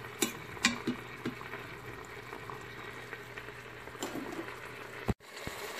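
Chicken pieces searing in an Instant Pot Duo Plus, a steady low frying sizzle with a few sharp crackles and pops near the start, fairly quiet and continuous, followed by a brief clunk near the end.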